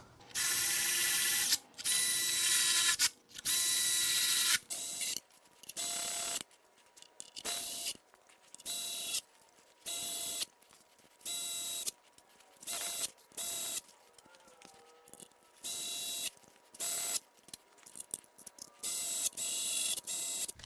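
Ratchet driving bolts during reassembly of a 3.6L Pentastar V6 engine in a family van: rapid clicking bursts, loud at first, then many shorter, quieter ratcheting spurts with brief pauses between them.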